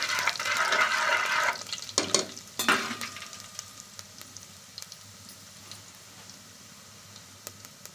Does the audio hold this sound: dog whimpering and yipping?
no